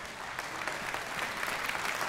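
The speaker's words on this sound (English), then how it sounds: "They clapped a lot louder at that than the other two services." A church congregation breaks into applause during a sermon, a dense, steady wash of many hands clapping at moderate distance for a couple of seconds.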